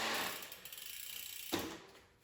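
A bicycle chain and freewheel ratchet with a soft, fast clicking buzz while the pedals turn during chain cleaning with a paper towel, then a brief louder clatter near the end, fairly quiet and with no voices.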